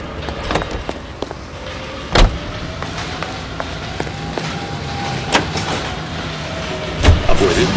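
Car driving in L.A. Noire, a steady close engine hum with several sharp thuds and knocks spread through it.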